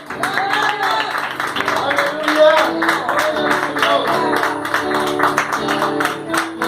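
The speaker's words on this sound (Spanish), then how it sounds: "dale un fuerte aplauso" Church congregation applauding during a sermon, a dense sustained patter of many hands clapping at close range, with a voice and musical tones running underneath throughout.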